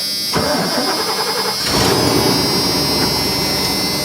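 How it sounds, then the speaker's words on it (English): An old pickup truck cranks briefly and catches, then settles into a loud, steady rough idle close by, with wind noise in the background. "we'll go ahead and fire this thing up."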